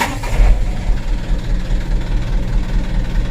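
A new car's engine, restarted, idles with a low, steady rumble, close by and fairly loud throughout.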